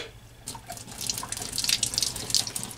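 Hot water splashing and running through a part from a diesel heater being cleaned, a hissing, spattering flow that starts after a brief quiet moment and grows louder.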